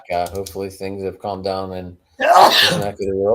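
A single sharp, loud sneeze from a man bursts out in a brief gap between stretches of close talking voices.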